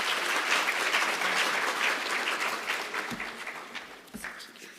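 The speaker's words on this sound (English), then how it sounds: "A round of applause for Professor Taylor." Audience at an African engineering conference applauds a professor, broad sustained clapping filling the hall for several seconds before tapering off, with a few final claps near the end.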